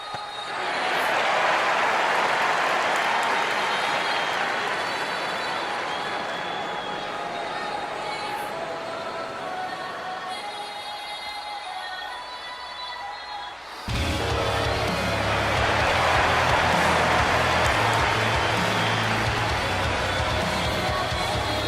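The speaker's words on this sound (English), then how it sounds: "To a raucous crowd here in Shinjuku, V-Kid makes his entrance to the Sanctum for just the third time" Raucous arena crowd in the WWE 2K24 video game roaring steadily for a wrestler's entrance at a Shinjuku, Tokyo show, a loud continuous wash of cheering that swells louder after a brief dip.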